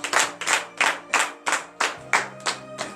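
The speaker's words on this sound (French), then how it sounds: "donner de vives acclamations à notre Seigneur Jésus." A church congregation at a morning prayer service in Benin claps in a steady, close rhythm, about eight even beats of hands with a faint murmur beneath.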